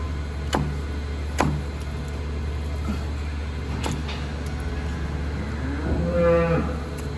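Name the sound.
cow mooing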